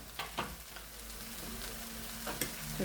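Turkey berries and beans are stirred in a pan, giving a few soft scraping strokes over a faint, steady low sizzle, quiet and close, with no voices.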